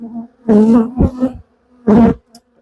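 Agitated honey bees buzzing loudly at close range during a hive inspection after the honey frames were removed, the droning hum swelling in several surges with brief quieter gaps between bursts.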